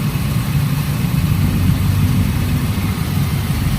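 Toyota Corolla 2E engine idling steadily with a misfire while its spark plug wires are pulled one at a time, a loud, close, low rumble running continuously throughout.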